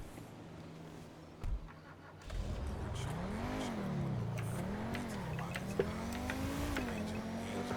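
A car engine in GTA V revs up as the car arrives, its pitch rising and falling through several gear-like sweeps before settling into a steady drone. Faint speech is mixed in quietly.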